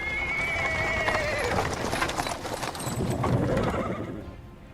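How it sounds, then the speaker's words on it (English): A horse-drawn cart pulled by a small horse rolls over paving stones in the video game Wrath of the Righteous, with steady clip-clop hooves, rumbling wheels and a whinny, continuous and fairly full for several seconds. "He is interrupted by the sound of wheels rolling on the paving stones."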